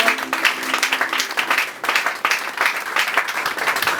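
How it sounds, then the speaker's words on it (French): A church congregation applauding together at a worship service, steady dense clapping from many hands filling the room for several seconds, loud and continuous. "Acclamons pour la gloire du Seigneur."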